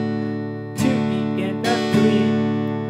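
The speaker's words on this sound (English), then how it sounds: "It's just the strumming pattern cut off on the third beat" Strummed guitar chords in a short pattern, with a few accented strokes and a sudden stop on the third beat leaving a ringing break, played alone without voices.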